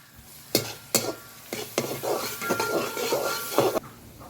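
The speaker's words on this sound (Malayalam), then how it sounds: "അപ്പോൾ സബോള വയറ്റിയിട്ടുണ്ട്." Sliced onions sautéing with turmeric in a pan for an egg curry: a soft sizzle runs throughout, punctuated by several sharp scraping knocks of a spoon stirring against the pan.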